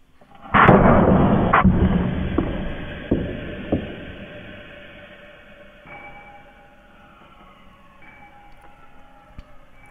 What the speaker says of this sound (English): what you heard bouncing off in the distance was one of those stainless steel screws that took off